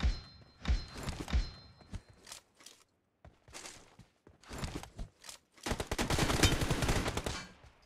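Gunfire in the mobile battle-royale game Free Fire: several rapid bursts and single shots, loud and close, broken by short gaps and ending in a longer sustained volley.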